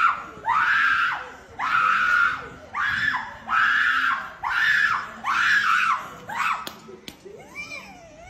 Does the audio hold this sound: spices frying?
no